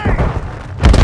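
A thrown grenade goes off in Call of Duty Modern Warfare 3 multiplayer, a short loud boom with low rumble, preceded by another dull thump of combat.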